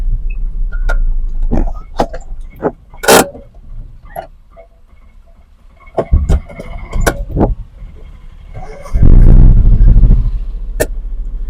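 A car on a Kerala four-wheeler road driving test, with scattered clicks and knocks, then a loud surge of engine and road rumble near the end as it accelerates, close and without speech.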